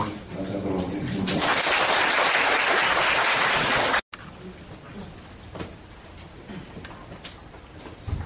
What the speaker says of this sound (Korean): 박수로 선생님의 강연을 맞이하도록 하겠습니다